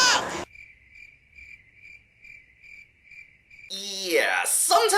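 Crickets chirp in a steady, evenly spaced rhythm in a quiet countryside setting, clear and prominent for most of the stretch, framed by brief bursts of louder voices and noise at the start and end.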